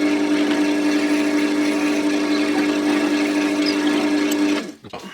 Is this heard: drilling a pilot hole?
yes